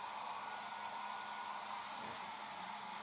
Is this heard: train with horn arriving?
no